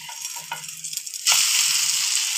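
A snack frying in a pan just after being flipped, with quiet soft sizzling and faint tones at first, then a loud, steady hiss of hot oil bursting up midway and holding to the end.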